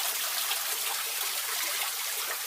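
Water pours steadily into a fish tank as it is refilled through a triple biofilter, producing a continuous bright, hissy splashing stream with no breaks and no other sounds.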